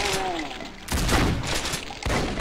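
Enemy gunners in a video game fire bursts of gunfire, loud and dense, with several sharp volleys cutting in one after another over a rumbling battlefield din.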